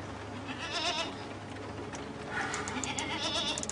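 A goat bleats in darkness while a light is switched on and off, several wavering, nasal calls close by, repeating across the moment with no talk.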